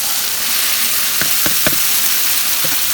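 Green chilies and tomatoes sizzle in a frying pan, a loud, steady crackling hiss broken by a few sharp pops and knocks near the middle, heard up close with no voices.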